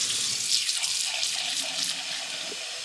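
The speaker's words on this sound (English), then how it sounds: "And then you're gonna put some hot water" Hot water runs steadily from a tap into a glass candle jar with dish soap, a close, bright, continuous splashing hiss that fills the whole short stretch without pause.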